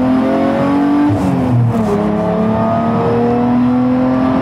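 Exhaust of a manual-swapped Jaguar XJR revving loud and close, a steady deep drone with a brief pitch dip and rise mid-way, no voices.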